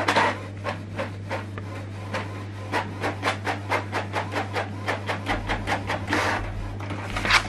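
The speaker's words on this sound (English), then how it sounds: "So what it's doing now is printing out the test print." A Canon TX7700 series printer prints a test page, its print head sweeping back and forth in a steady run of rhythmic rubbing passes over a constant low motor hum, close and clear.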